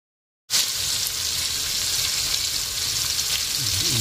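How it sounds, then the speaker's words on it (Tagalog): Garlic and onion sauté in a pan for pinakbet, with a loud continuous sizzle that starts abruptly after a brief silence and then holds steady, close and without talking. "Bisahin ang bawang at sibuyas hanggang maging golden brown"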